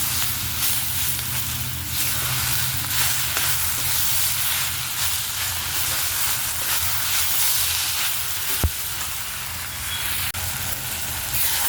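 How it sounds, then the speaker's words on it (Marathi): Onion roasting in a kadhai for a homemade kari masala, giving a steady, continuous sizzle and frying hiss throughout with a brief clink near the end, no talking. "असा कलर होईपर्यंत कांदा भाजून घ्यायचा आहे"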